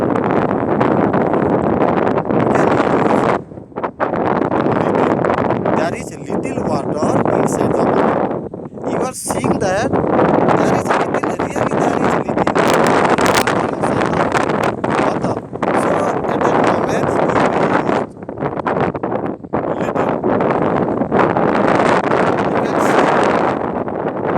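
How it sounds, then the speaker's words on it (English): Strong outdoor wind buffets the microphone in a loud, continuous roar that rises and falls in gusts, with a few brief lulls between blasts. "there is much wind"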